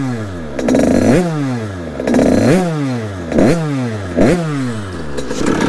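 A motorcycle engine revs up and down repeatedly, its pitch sweeping in rising and falling surges about once a second, loud and close.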